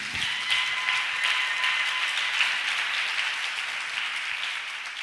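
A church congregation applauds Jesus in steady, dense clapping that holds the whole time, loud and even, with no talk over it.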